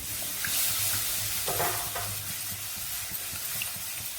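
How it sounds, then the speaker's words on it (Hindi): Milk is whisked into a white sauce in a pan, producing a steady close hiss of cooking with soft stirring scrapes running throughout. "अब बाकी का दूध शामिल करते हैं।"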